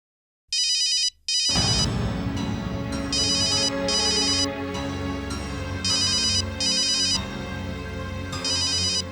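A mobile phone rings with an incoming call, a loud, close electronic ringtone melody repeating in bursts over several seconds with a steady backing tone, no voices.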